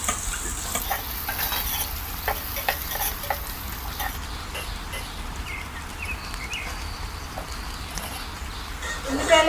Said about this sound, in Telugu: నూనె వేడి ఎక్కాక విడి మసాలా వేసుకుంటున్నాను. ఆనియన్ వేసుకుంటున్నాను